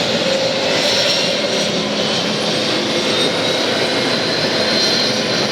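Boeing jet airliner roaring steadily at Atlanta airport, a loud, continuous engine rumble with a high whine sustained throughout, no pauses or talk.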